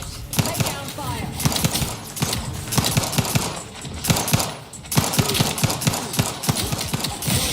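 Video game gunfire crackles in rapid, irregular bursts of sharp shots, loud and close, with brief lulls between volleys.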